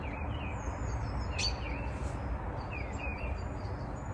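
A wild bird calls in the distance with a few thin, rising whistles spaced across a steady, noisy outdoor background.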